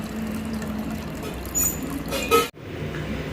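Water pouring out of an LG front load washing machine during a drum clean cycle, a steady draining rush with a brief clunk before it continues.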